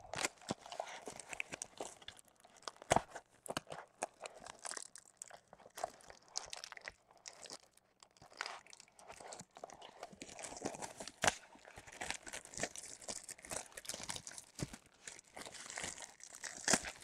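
A 2004 Topps All-Time Fan Favorites baseball card pack is cut open by hand, its foil wrapper crinkling and tearing in dense, close, continuous rustles with sharp crackles, with no talk over it.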